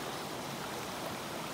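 Gushing water from a stream flowing into a river in Japan, a steady, dense broadband rush heard alone and fairly close, with no change over the short span.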